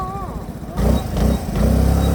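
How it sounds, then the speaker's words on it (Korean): A motorcycle engine revs loudly nearby, its deep throbbing putter swelling in steps over a couple of seconds, while voices talk and call out over it. "오토바이 오토바이가 매연이 심하고 누가 이런 걸 타고 다녀"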